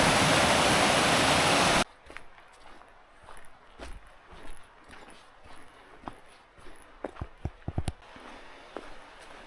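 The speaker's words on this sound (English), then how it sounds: "The Oliverian Brook." A burst of rushing water from Oliverian Brook in the White Mountains' Sandwich Range Wilderness opens loud for about two seconds, then gives way to quieter outdoor sounds with scattered footsteps and knocks.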